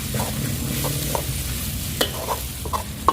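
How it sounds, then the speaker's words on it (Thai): Thick chilli paste with mackerel stir-fried in a pan until the oil dries, a steady low sizzle broken by intermittent scraping and clinking strokes of a spatula, close and fairly loud with no talking. "แล้วก็ผัดไปเรื่อยๆครับผม"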